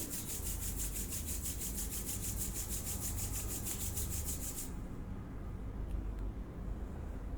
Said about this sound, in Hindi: और अपने हाथों को रब करेंगे।